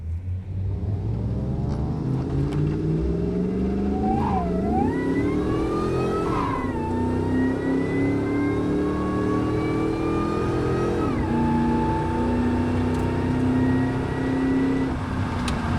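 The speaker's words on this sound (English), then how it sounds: "Gotta love that supercharger whine on these trucks." A supercharged 2004 Ford Lightning pickup engine revs and accelerates through several gear changes, a steady rising supercharger whine riding over a deep rumble, close and continuous.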